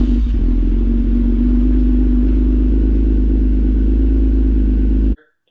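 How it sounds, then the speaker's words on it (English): A 2019 Toyota Camry XSE V6 fitted with a Magnaflow exhaust and AEM air intake roars by with a loud, deep, sustained rumble that cuts off abruptly. "fully thought that was a GTR coming by. But no, that was a Toyota Camry."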